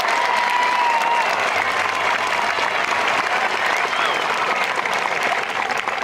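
High school graduation audience applauding the graduates, sustained loud clapping from a large crowd in a hall, continuous for the whole stretch with a faint voice briefly underneath.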